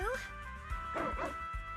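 A voice imitates a dog barking in the Zenless Zone Zero video game, giving a few soft, close woofs in a spoken, playful tone rather than a real animal's bark.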